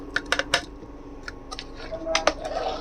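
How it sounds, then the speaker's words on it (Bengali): Payesh with raisins, almonds, cardamom, bay leaf and cinnamon gets stirred in a pressure cooker, giving several sharp, close metallic clinks and scrapes of a spoon against the pot, in quick bursts with short pauses. "নেড়ে দিচ্ছি"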